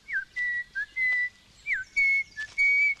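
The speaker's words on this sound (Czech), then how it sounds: "Já si hvízdám." A man whistles a short tune alone, with bright, clear notes in several phrases, some sliding down in pitch, heard up close with a little faint background noise.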